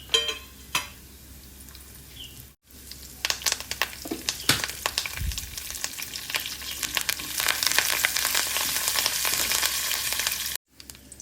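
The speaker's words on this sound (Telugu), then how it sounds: "బాండి పెట్టి ఆయిల్ వేసి పోపు దినుసులను వేసుకుని బాగా వేయించుకోవాలి" Tempering spices crackle and sizzle loudly in hot oil in a kadai, with sharp pops and a spoon scraping the pan now and then; no voices.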